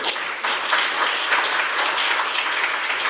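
Warm, sustained applause from a forum audience at a handball policy forum, a broad even patter of many hands clapping throughout with no speech over it.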